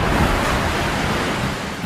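Ocean waves and surf roar around the Yangshan Islands offshore of mainland China in a port setting, a dense, loud, unbroken wash of surging water and wind, close and with no voices.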